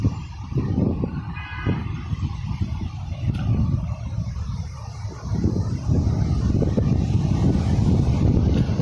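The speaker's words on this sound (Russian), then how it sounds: "Ледяной пошел ветер, наверное, к дождю." Cold, icy wind gusts across the microphone outdoors by a young birch garden, a low roaring buffet that rises and falls unevenly and stays loud throughout.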